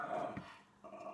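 A dog growls low at someone outside, a short rumbling growl of about a second that rises and fades, fairly close and with no talk.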